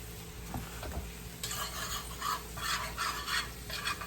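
Flour being stirred into sautéed onions in a pan for cube steak gravy, a steady scraping and rasping of a utensil against the pan with soft sizzling, in close, repeated strokes that grow busier partway through.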